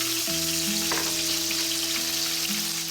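Pork ribs sauté in an oiled pan for Filipino kaldereta, a steady loud sizzle and crackle that holds throughout with faint tonal hums underneath and no speech.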